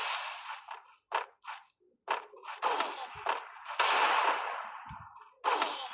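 Sniper rifle shots in a video game: several sharp cracks and bursts with short mechanical clicks of weapon switching between them, irregularly spaced and fairly loud.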